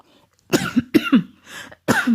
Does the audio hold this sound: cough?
yes